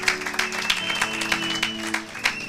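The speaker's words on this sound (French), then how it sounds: "Acclamez pour la gloire de notre Dieu" A church congregation at a Sunday service claps in a steady, rhythmic pattern over sustained musical tones, loud and close.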